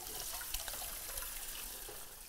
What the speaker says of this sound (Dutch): Het hardgekookte eitje ga ik afgieten.